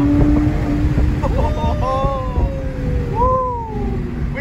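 A 500 wheel-horsepower turbo Toyota Supra engine revs hard in a second-gear pull, climbing in pitch under wind rumble, with voices talking over the accelerating drone.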